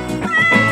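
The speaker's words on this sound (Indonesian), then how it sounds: "ternyata Jimoy lagi lihat kucing temannya yang ada bermain di sawitan depan" A Persian cat meows, a close, clear, drawn-out cry with a rising tonal pitch, heard alone over a short moment.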